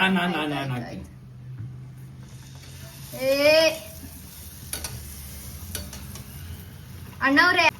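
Golgappa puris fry in hot oil that is stirred, giving a continuous sizzle and bubbling under intermittent nearby talk and exclaiming voices.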